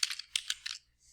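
Keys clatter in a quick burst of typing on a computer keyboard, a run of close, crisp clicks with a few louder strokes, then a brief pause and faint trailing noise.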